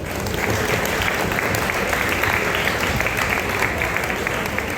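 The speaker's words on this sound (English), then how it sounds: "a round of applause please." Loud, continuous clapping from a crowd of parents at a launch event for a sports team, steady and full for several seconds with no pause.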